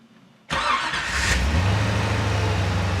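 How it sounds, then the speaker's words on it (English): A hot rod's engine cranks and catches, then settles into a loud, steady, rumbling idle close by, with no talking. "So you want to hear it running?"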